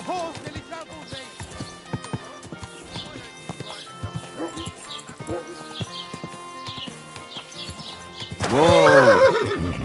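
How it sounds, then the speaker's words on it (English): Horse in Kingdom Come Deliverance 2 clip-clops through a medieval scene, with a loud, close whinny near the end; people talk throughout. "Hey! Your horse nearly trampled me!"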